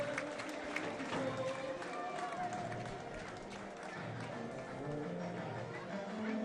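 Home crowd of Canberra United supporters at a stadium during a women's league football match, a steady murmur of chatter and scattered clapping filling the background with a commentator talking over it.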